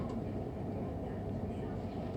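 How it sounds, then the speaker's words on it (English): A westbound London Overground train rumbles steadily at Harringay Green Lanes station on the Gospel Oak to Barking line, a continuous low rolling noise with no distinct clatter, at moderate level throughout. "A westbound train approaches."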